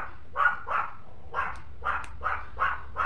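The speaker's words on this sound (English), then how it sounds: "Sorry, my dog is like really annoying." A small pet dog barks in a rapid, fairly even series of about seven sharp yaps, close and moderately loud, with no talking in between.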